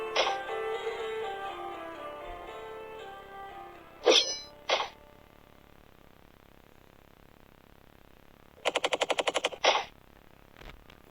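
Rapid bursts of automatic gunfire and single sharp shots break through quiet stretches, alongside a short tonal electronic sound at the start, with no talking.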